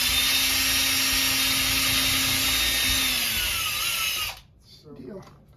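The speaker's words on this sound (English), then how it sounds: "And I'm pre-drilling, and I do not want to apply too much force" A power drill pre-drills a hole during a small downeast-style boat refit, a steady close whine running for about four seconds before cutting off, followed by quiet room sound.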